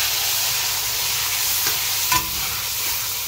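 Onions frying in a pan in a shared kitchen, producing a loud, steady hiss of sizzling oil with a single utensil knock near the end, close and without voices.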